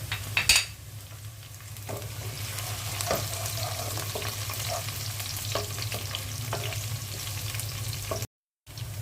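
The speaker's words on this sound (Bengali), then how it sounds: "পেঁয়াজ, রসুন আর গরম মশলাটা ভেজে নিলাম।" Onion, garlic and garam masala sizzle steadily in hot oil in a pan for beef curry with chana dal, with occasional stirring scrapes and a brief louder clatter near the start.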